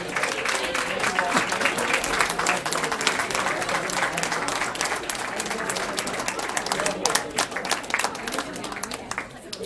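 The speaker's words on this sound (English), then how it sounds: "Have a round of applause" A sustained round of applause fills a Board of Education meeting room, many hands clapping densely and steadily, with a few louder individual claps standing out near the end.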